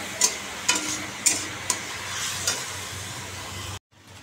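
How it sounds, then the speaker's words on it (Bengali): Spice paste for a fish curry frying in a pan, a steady sizzle with several sharp stirring scrapes and clinks, close and alone before it cuts to near silence. "মশলাটা কষাচ্ছি এখন।"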